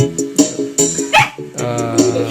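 A dog barks and yips several times in short, loud bursts, close by, with a brief whine between barks and no talking.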